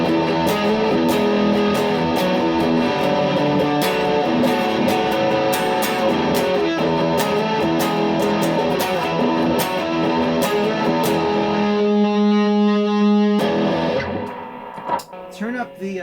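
Electric guitar played through a Tone City Mickey distortion pedal: thick, saturated chords and riffs ring loud and continuous, then thin out into a sustained note near the end before cutting off.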